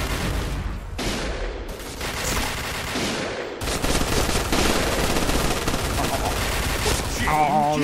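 Bursts of AK-47 machine-gun fire in a shooter video game, loud rapid rattling volleys broken by short pauses, ending with a brief high electronic tone.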